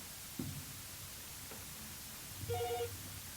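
A telephone rings during a live call-in show: one short electronic ring tone near the end, fairly faint over a low hiss and quiet room noise, with a soft thump earlier.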